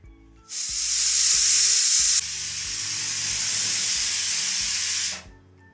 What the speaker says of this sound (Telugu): కుక్కర్కి 3 విజిల్ వచ్చేసాయి